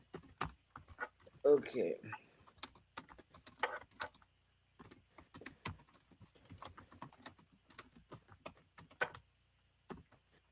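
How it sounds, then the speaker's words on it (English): Fingers tap quickly on a computer keyboard in irregular bursts of clicks during an online conversation, with a person talking faintly in the background. "Can you hear that typing?"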